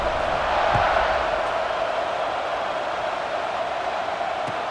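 Stadium crowd roar at a college football game in EA Sports College Football 26, a steady dense wash of cheering that swells slightly early on and holds loud throughout, with no voices standing out.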